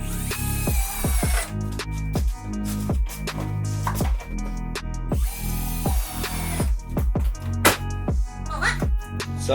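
A power drill drives self-tapping screws into a car side skirt during a DIY fitting. Repeated short, loud, close bursts of whirring are separated by brief pauses.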